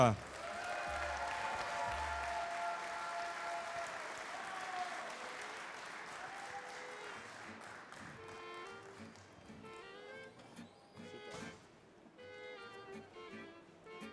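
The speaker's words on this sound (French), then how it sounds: "un tonnerre d'applaudissements, s'il vous plaît, pour tous les candidats de l'écaille d'or et du Golden Fish" A crowd applauds the candidates of a seafood cooking contest, the Écaille d'Or and Golden Fish, strong sustained clapping that thins out over time while music and voices rise beneath it.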